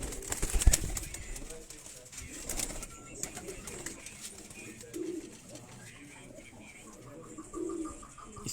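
Low, rolling coos from several Chapra pigeons and other fancy pigeons kept by a breeder, repeating softly at close range, with scattered wing flutters and someone speaking over them.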